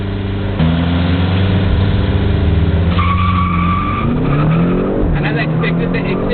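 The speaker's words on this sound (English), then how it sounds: "we are ready to have one final drag race" BMW M5 and X6 launching side by side in a drag race on an airbase runway, loud engines revving and rising through gears with a brief tire squeal, under a voice.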